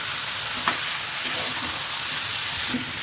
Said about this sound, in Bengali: মেরিনেট করে মাংসটা এটার মধ্যে ফেলে ভালো করে মিক্স করে দিচ্ছি